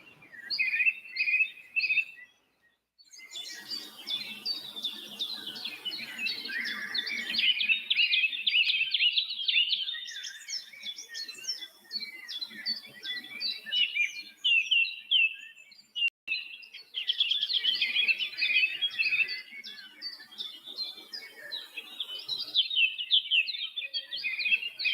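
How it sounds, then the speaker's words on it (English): Birds chirp and tweet outdoors in dense, overlapping calls, near and fairly loud, continuing almost without pause except for a brief gap near the start. "the peaceful sounds of the birds"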